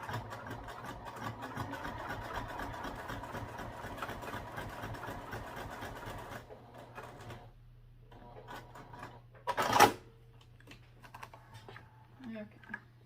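A home sewing machine stitches through backpack fabric with a rapid mechanical whir for several seconds, then stops, leaving low hum, handling noises and a brief loud rustle.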